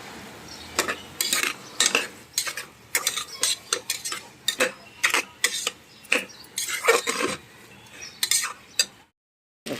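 Masala fries in ghee in a pan as a utensil stirs and scrapes against the metal in repeated bursts, with a faint sizzle underneath, ending in a brief silence.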